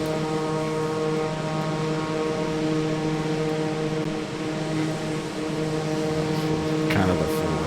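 Loud, steady turboprop engine drone with strong tonal harmonics inside the cockpit of a Piaggio P180 in a flight simulator, continuous and unbroken, with a brief higher sweep near the end.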